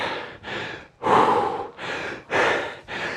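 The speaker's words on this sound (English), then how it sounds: "Let the worst of your heavy breathing subside." A person breathes heavily after a fast rowing workout, giving six loud, close gasping breaths in a steady in-and-out rhythm with no talk.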